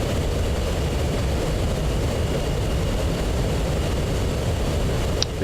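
F-15C jet from the DCS World flight game at takeoff on a multiplayer server: a steady, loud, broadband engine roar holds unbroken throughout, with a brief faint high chirp near the end.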